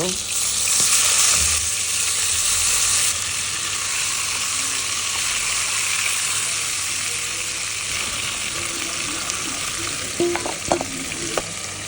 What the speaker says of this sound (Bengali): দিয়ে দিলাম তেল এখন ম্যারিনেট করা মাংসগুলো হালকা করে ভেজে নিব